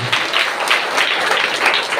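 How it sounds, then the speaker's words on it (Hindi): A church congregation applauds loudly, a dense continuous burst of clapping heard up close for a couple of seconds. "जोरदार ताली से धन्यवाद करें।"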